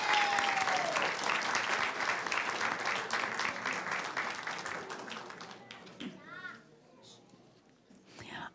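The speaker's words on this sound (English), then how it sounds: "Let's give her a round of applause." Applause at a school board meeting for a student, a room full of clapping hands and scattered children's voices that gradually thins and fades out, followed by a voice beginning to speak.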